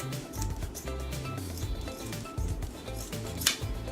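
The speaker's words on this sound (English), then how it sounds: "I'm going to cut these jeans here." Scissors snip and crunch through thick denim jeans in a run of uneven, close-up cuts, with faint clinking handling noises between them.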